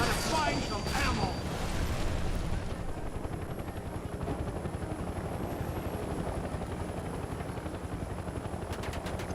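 Helicopter rotor in the video game Mercenaries 2 thumps steadily throughout, loud and close, with a brief burst of other game noise at the start.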